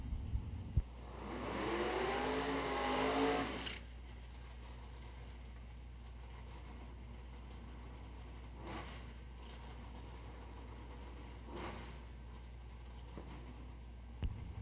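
A Buick Regal and an 07 Corvette drag racing car do burnouts at a strip, a loud roaring engine swell for a few seconds, then faint distant revs and idling after.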